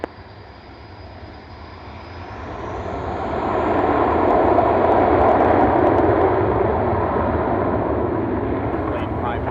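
A fixed-wing aircraft takes off from an airfield, its engine roar swelling over several seconds into a loud, sustained broadband rush that holds steady to the end, with no speech.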